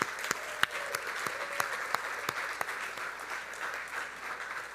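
Steady audience applause for award winners at the Mirror Awards ceremony, a dense wash of many hands clapping at moderate distance with a few sharper nearby claps standing out.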